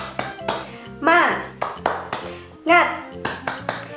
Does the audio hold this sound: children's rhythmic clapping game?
yes